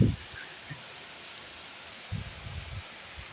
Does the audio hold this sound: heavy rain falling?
yes